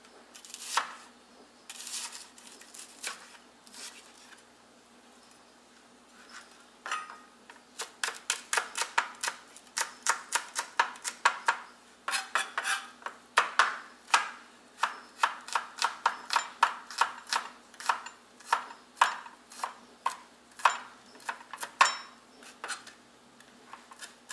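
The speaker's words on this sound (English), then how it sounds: "Just going to chop it into pieces." A knife chops a black grouper into pieces on a board in a Key Largo, Florida Keys kitchen: rapid, crisp repeated knocks in bursts, sparse at first then a long steady run of fast chops, close and clear with no talk.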